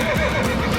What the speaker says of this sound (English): Arthur's horse fell down